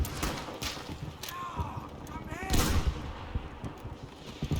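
Gunfire in the video game Battlefield V, with several sharp shots and rumbling bursts spread over a few seconds, mixed with other game effects while a voice talks.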